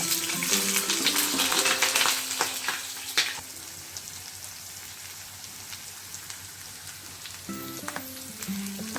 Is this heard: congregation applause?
no